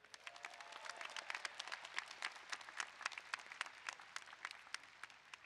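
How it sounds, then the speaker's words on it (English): Commencement crowd at a College of Engineering graduation gives a round of applause, distinct individual claps rising out of a quiet, fairly distant wash and continuing unevenly. "Please give them a big round of applause."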